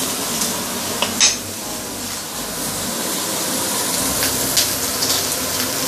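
Boneless Iberico ribs render in a hot claypot, giving a steady close sizzle of frying fat with a few sharp clinks and scrapes as the pieces are turned.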